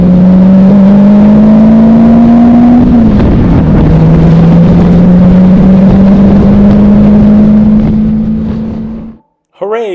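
Short-wheelbase hot rod race car driving past close up, its loud engine note climbing steadily in pitch, dropping briefly with a gear change, then climbing again before cutting off abruptly.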